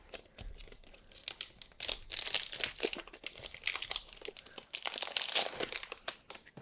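Crinkling, tearing plastic packaging being cut open with scissors, with irregular bursts of crackling and rustling close by, steady throughout with short pauses.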